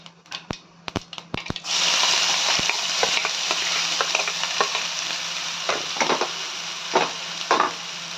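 Chopped onions and fennel seeds fry in hot oil for a prawn and mushroom dish, a few sharp taps of the pan at first, then a steady close sizzle broken by clacks and scrapes of stirring.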